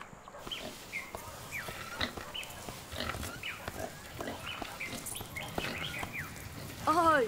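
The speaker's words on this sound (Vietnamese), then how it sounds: "lại còn mang theo cả lợn nữa kìa" A pig brought along by a visitor to a rural village home grunts and squeals repeatedly, fairly close, amid chirping birds and other farmyard noise, with a final rising squeal at the end.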